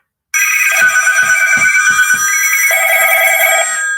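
A telephone rings with a loud, bright electronic trill that repeats in quick bursts, alone and close up, with no voices.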